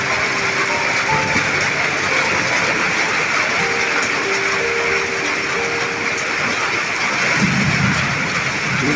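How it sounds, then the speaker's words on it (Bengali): Dense, constant hiss of heavy rain fills the whole stretch, with faint tonal sounds drifting through it. "কি আনন্দ বৃষ্টি হচ্ছে ঘন ঘন"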